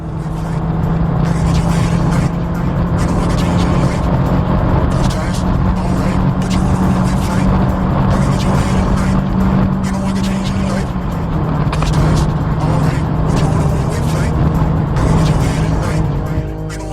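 A VW Polo Mk1 Velociti 1.6i accelerates hard at a 2006 car meet, its engine note rising and holding loud and continuous, with a pitch change midway and crowd noise in the background.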